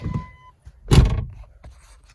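A 1995–1999 Dodge Neon car door is pushed shut with one solid thunk, preceded by a couple of faint handling clicks, and the cabin falls quiet after the slam.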